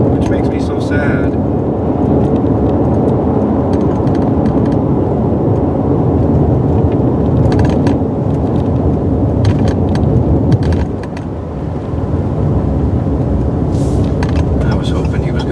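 Steady, loud rumble of a new car being driven, heard from inside the cabin as a continuous low road and engine drone with a brief dip, with a person talking over it.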